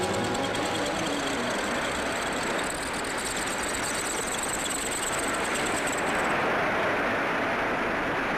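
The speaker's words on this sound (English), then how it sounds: "Masses of machine heads carrying gangs of tools advance and withdraw with the precision of guardsmen on parade." Automated factory machine heads carrying gangs of tools machine gearbox parts, a steady dense mechanical whir and rattle with a high whine, continuous and loud throughout.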